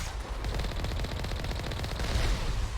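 Heavy automatic turrets hammer out rapid, sustained bursts of gunfire in a Mass Effect firefight, loud and continuous with dense rhythmic reports throughout.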